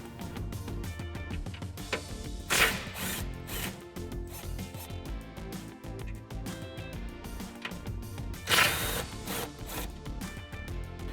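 A 12mm socket wrench backing out bolts on a 2014-2021 Toyota Tundra rear bumper: steady metallic ratcheting and rubbing runs throughout, with two sharper scraping bursts standing out, close and without talk.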